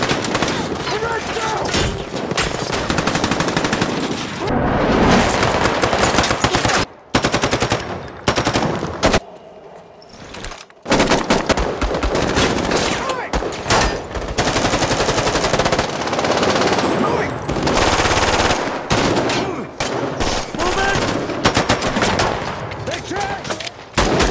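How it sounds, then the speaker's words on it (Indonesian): Heavy automatic gunfire fills a film shootout on a street among civilian vehicles, loud sustained bursts with brief gaps and a longer lull midway, mixed with dramatic sound effects. "Peluru berterbangan di antara kendaraan sipil."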